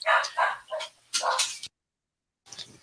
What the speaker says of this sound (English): my dog's about to freak out apparently